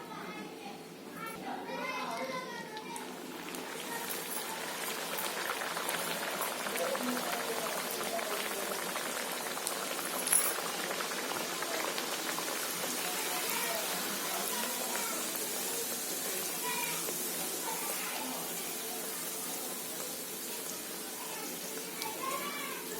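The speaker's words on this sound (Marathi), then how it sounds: "आता थोडा गॅस आहे ना थोडासा मीडियम करते आणि पुऱ्या तळायला घेते" Green pea puris frying in hot oil over a medium flame, a steady close hiss and bubbling that runs the whole time with faint voices in the background.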